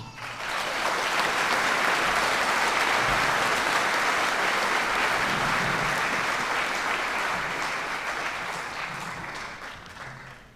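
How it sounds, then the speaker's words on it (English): A large audience at a graduation commencement claps loudly and continuously, the applause swelling quickly and holding steady before tapering slightly at the end. "Let's give them a round of applause."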